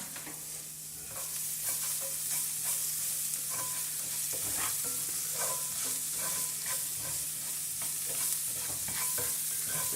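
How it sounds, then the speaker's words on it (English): Chopped shallots salted in a pan, sautéing over medium-low heat for steak Diane, give a steady close sizzle with repeated scraping stir strokes throughout, no talking. "Just as the shallots get cooking"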